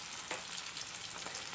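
Dried fish fries on low heat, giving a steady, even sizzle with faint stirring scrapes and no talking.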